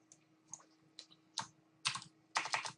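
Keys clatter on a computer keyboard as a project name is typed, a handful of quiet isolated taps growing into denser, louder bursts toward the end in a quiet room.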